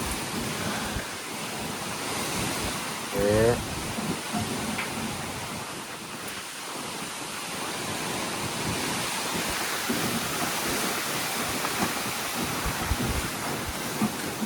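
Strong storm wind with rain blows as a steady, loud broadband roar and rush through the whole span, gusting unevenly with brief louder bursts.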